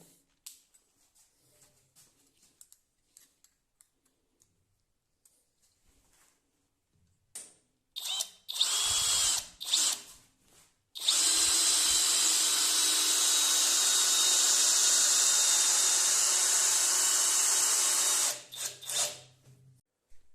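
A Pro-Craft PA 18Pro BL cordless drill drives an 8x60 screw into a 10 cm thick pine beam. The motor whines loudly and steadily for about seven seconds after a few short starting bursts, then it winds down.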